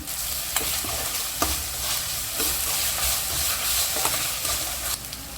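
Grated carrot and ginger garlic paste fry in a pan for homemade egg fried rice, an even hiss of sizzling broken by repeated spatula scrapes and stirring knocks.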